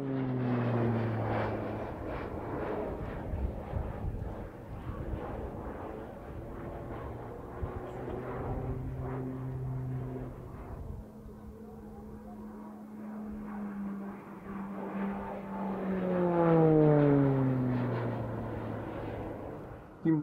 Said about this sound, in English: The Hellenic Air Force ordered 45 of these Beechcraft T-6s and they are based at Kalamata.